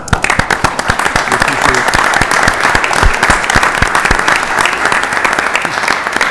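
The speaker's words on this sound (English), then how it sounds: "So Dennis Rebelletti, you get a round of applause." A council meeting audience applauds a state representative, a loud, close round of many hands clapping in a steady crackle that lasts throughout, with a faint voice or two mixed in.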